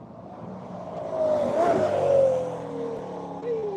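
A Fiat car passes during a One Lap of America event at Hedge Hollow, its engine note rising and falling with a steady tonal whine as it goes by, fairly close and moderately loud.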